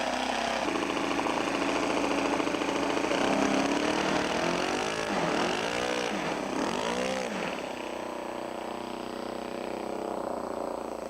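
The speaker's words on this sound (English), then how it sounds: "Engine running." A small airplane's engine runs steadily at close range before takeoff, a continuous droning hum with shifting, sweeping tones midway through.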